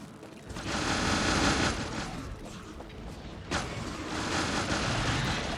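Grenades exploding in Factorio amid automated combat, a sustained rattle of rapid bursts with a sharper blast midway, steady and fairly loud under game noise.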